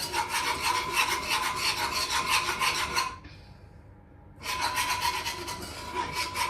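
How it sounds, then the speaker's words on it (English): A whisk scrapes steadily around a pan as milk goes bit by bit into a cheese sauce for cauliflower cheese, a close continuous rasp that pauses briefly midway, then resumes. "I'm using a whisk, obviously that'll help just to smooth it all out."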